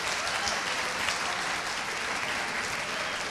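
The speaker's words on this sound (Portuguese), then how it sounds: "Queremos recebê-lo com uma salva de palmas." An audience at a talk applauds steadily to welcome guest speaker Dr. Rodrigo, an archaeologist and pastor. The dense, even clapping fills the room without letup, and no other sounds rise above it.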